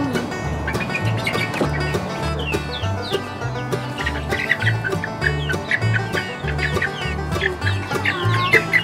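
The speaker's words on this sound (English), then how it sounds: "this is Star, my mom's chicken, and they're both really scared" Several pet chickens, including one named Star, cluck and squawk close by in a backyard coop, with steady overlapping clucks and calls running throughout.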